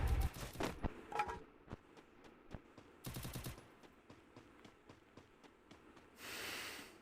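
Rapid bursts of gunfire in the video game Free Fire alternate with single sharp shots, then a steady rushing roar rises near the end; no voices.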